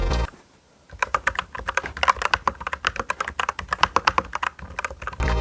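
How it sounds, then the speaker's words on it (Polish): Steady, brisk typing on a mechanical keyboard fitted with O-rings, dense clacking keystrokes close up, with no talk. "sprawdźcie jak brzmi teraz ta klawiatura po tej modyfikacji"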